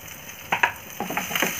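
Onion dropped into hot oil with cumin, a brief burst of sizzling and crackling that starts abruptly and keeps fizzing through the short moment, close by, no talk.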